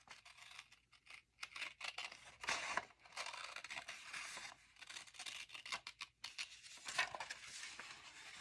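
Scissors cutting through a paper file folder, quiet close snipping and rasping cuts in short irregular bursts, no talk.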